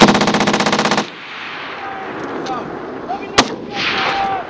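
Rapid bursts of Marine Corps machine-gun fire at a 29 Palms range open loud and close, then stop after a second, leaving a quieter stretch with a single sharp report and distant echoing rumble.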